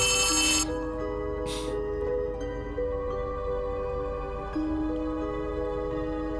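An electronic phone ring in the video game Poppy Playtime sounds in short repeated bursts over a steady droning musical background, fairly loud and close.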